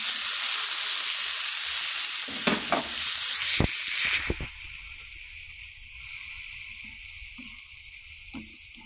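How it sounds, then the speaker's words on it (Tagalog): Tomatoes and onions sizzle and hiss loudly in a hot pan while being stirred, with a few sharp scrapes of the spatula before the frying settles to a quieter, softer sizzle. "Sabay na po natin yung kamatis kasi madali na pong maluluto po yung sibuyas."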